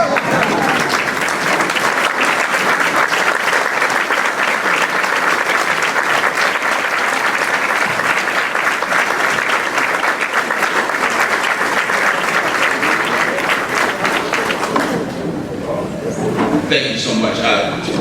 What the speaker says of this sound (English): can we all just stand up and give my mother a round of applause, please?